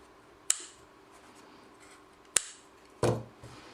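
Scissors snip crochet yarn in two crisp, distinct clicks a couple of seconds apart, followed by a soft rustle of handling.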